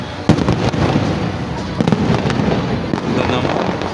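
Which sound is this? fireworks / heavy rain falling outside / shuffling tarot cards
fireworks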